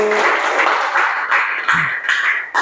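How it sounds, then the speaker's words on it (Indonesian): A seventh-grade Christian religious education class applauds together, steady clapping that dips and swells briefly, with a short vocal sound in the middle. "Ya, tepuk tangan buat semua"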